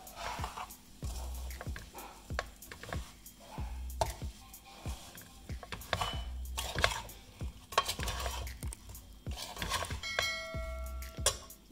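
Spicy amla pickle is stirred slowly in a pan off the heat, a spoon scraping and clinking against the metal in an irregular rhythm, close and fairly quiet.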